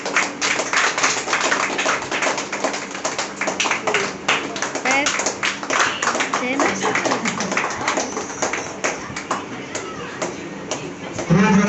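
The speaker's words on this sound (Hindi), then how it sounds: "जोरदार ताली बजाइएगा।" A school Teachers' Day ceremony crowd applauds at a health awareness gathering, a dense, steady roar of many hands clapping close and loud for about eleven seconds, with voices mixed into the noise.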